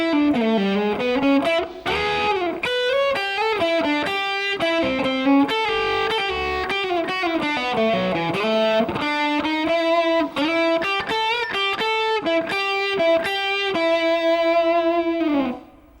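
Distorted electric guitar plays a blues shuffle lick in G, a continuous run of bent and sustained notes that rings out alone and stops at the end.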